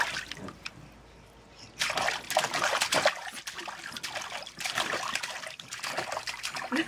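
A dog splashing in cold pool water, with bursts of sloshing and splatter starting after a quiet moment and continuing in uneven waves, fairly close.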